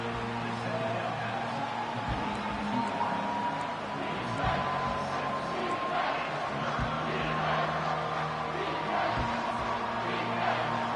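A stadium crowd in a college football video game, Nebraska vs Wisconsin, roars at a steady, moderate level throughout, a continuous wash of cheering with no breaks. Faint game commentary sits under the crowd.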